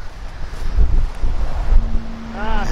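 Strong wind gusts across an open disc golf course, a steady low roar buffeting the microphone throughout, with a faint sustained hum appearing near the end.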